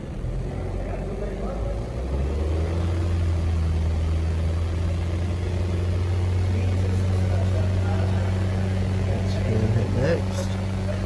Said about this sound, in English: Now we've got to rev the engine.